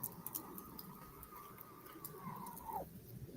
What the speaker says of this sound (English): The bird's making weird noises.